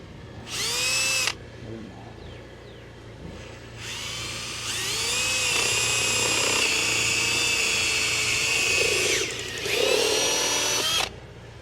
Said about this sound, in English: Drill you a hole Go ahead. where X marks the spot